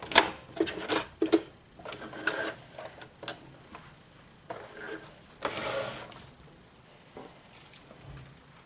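A sewing machine running short back stitches to finish a cloth pad gives brief, faint bursts of rapid ticking and clatter separated by quiet pauses.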